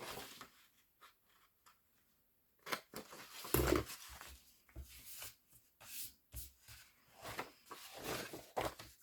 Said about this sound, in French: Et là, je vais couper de biais.